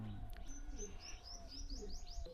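Indian Madrasi high-flying pigeons coo softly and repeatedly at close range, with scattered higher chirps and tweets over a low, steady murmur; no one speaks.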